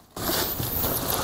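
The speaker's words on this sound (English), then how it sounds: "that isn't the easiest to zipper open" A stiff zipper on the main pocket of a weekender travel bag is pulled open in one continuous, close rasping drag that starts abruptly after a brief pause and runs steadily to the end, with no talking.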